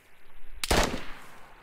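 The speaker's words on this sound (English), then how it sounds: "He's trying to shoot me." A single loud, sharp gunshot in the video game DayZ cracks close by, then fades into a short rumbling tail over quiet ambient background.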